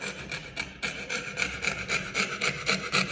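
A pewter casting held in a small work vise is cut with a hand saw, giving a rapid, even rasping stroke rhythm, close and clear with no talking.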